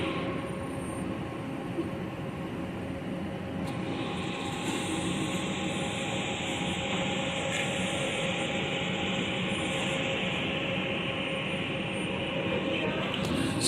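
Detroit People Mover train at Grand Circus Park station, a steady loud rumble and whine of the automated rail car running through the elevated station, continuous throughout with no talking.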